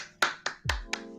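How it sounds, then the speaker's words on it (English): Four sharp hand claps ring out close by in a quiet room, spaced unevenly within about a second, each a crisp slap with a short decay and no talking. "What's with the clapping?"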